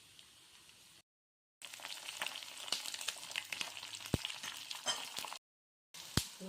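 Peanuts, chana dal, urad dal and green chillies sizzle and crackle in hot oil for a carrot pulihora tempering, a dense steady frying hiss with occasional sharp pops and spatters, up close and alone, interrupted by two brief silent gaps.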